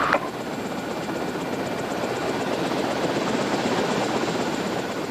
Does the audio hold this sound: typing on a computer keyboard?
no